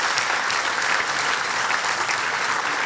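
An audience bursts into sustained applause at a comedy show, a dense, even wash of many hands clapping at once, loud and unbroken from start to finish.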